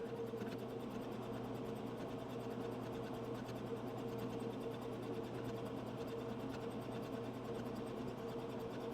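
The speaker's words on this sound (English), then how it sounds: "I'm going to sew down and across and back up." A sewing machine stitches a fabric bookmark onto a composition book, giving a steady, quiet mechanical whirr with a fast even needle rhythm that runs unbroken and close, with no talking.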